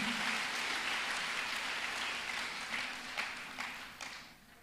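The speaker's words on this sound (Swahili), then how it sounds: "Appreciate askofu kwa makofi." Audience applause for a bishop at an appreciation day, a dense, sustained clapping that stays loud and fades slightly toward the end, with a few sharper individual claps standing out.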